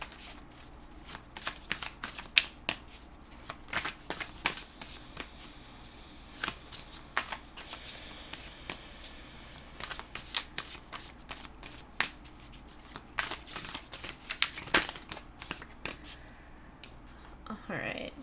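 Tarot cards shuffled continuously by hand at close range, a steady stream of quick riffling slaps and flutters with short pauses, running on for many seconds.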